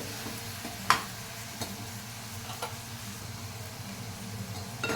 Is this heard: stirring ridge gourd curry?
yes